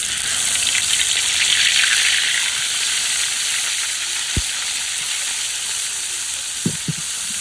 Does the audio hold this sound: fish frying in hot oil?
yes